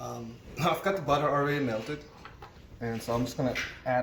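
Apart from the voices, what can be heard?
No everyday noises stand out.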